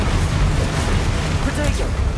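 Confringo blasting spell in a Harry Potter video game, a loud booming explosion with a dense rumbling roar lasting a couple of seconds, full and close, with a voice speaking.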